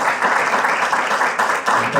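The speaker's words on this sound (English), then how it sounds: "Please join me in a round of applause." An audience applauds panelists at the close of an education forum discussion, a steady wash of clapping lasting about two seconds with a few voices mixed in.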